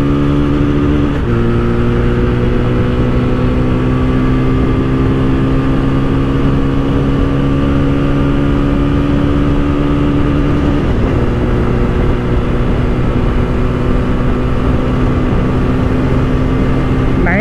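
2024 TVS Apache RTR 160 4V motorcycle held at high RPM while riding at top speed, a loud sustained engine drone with steady harmonic pitch, strong wind rush and a slight shift partway through.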